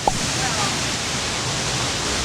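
Whitewater swell of the Tarawera Cascades in New Zealand's Bay of Plenty rushes down into ancient lava flows, a constant broad roar of churning water, loud and close, with no break.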